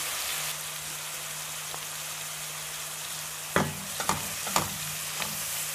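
Onions frying in a pan with salt added during cooking of liver, a faint steady sizzle running throughout, broken near the end by a few sharp clinks and stirring knocks.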